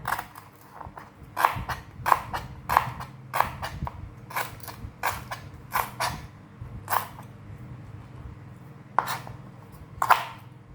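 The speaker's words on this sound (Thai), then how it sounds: "มาหั่นตะไคร่ก่อนค่ะ" A knife chops repeatedly on a cutting board, a close, uneven series of sharp thuds with short pauses between bursts. No one speaks.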